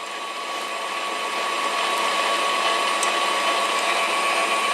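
An electric hand mixer beats an egg into sugar cookie dough in a bowl, giving a steady, continuous motor whir that holds at a constant level with no talking.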